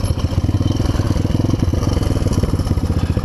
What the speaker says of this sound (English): I'm letting the engine braking work a little bit